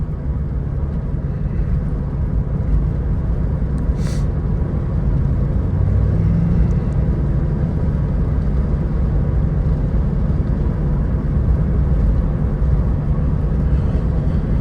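A Jeep XJ engine on a city morning drive, a steady low rumbling drone with road and wind noise, loud and constant throughout with no talking.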